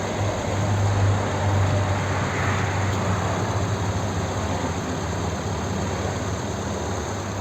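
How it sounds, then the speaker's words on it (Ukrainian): A 2011 VW Touran 2.0 TDI diesel engine idles with a steady, low hum running evenly throughout, close by and unchanging, with no voices over it. "Заведений рівно тихо працює цей моторчик."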